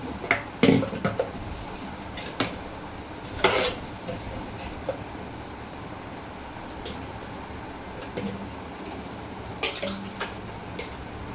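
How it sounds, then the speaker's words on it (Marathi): Steel utensils being scrubbed and handled clink and clatter in scattered bursts, with a few louder knocks against a steady background hiss. "मग ती सगळी भांडी घासून घेतली"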